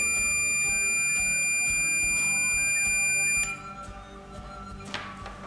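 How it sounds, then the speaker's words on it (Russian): A sound indicator in a simple electrode test circuit emits a steady continuous tone once the electrodes touch and close the circuit, sustained for a few seconds and then cutting off, leaving quieter background noise. "Звуковой сигнал сигнализирует о том, что цепь замкнута."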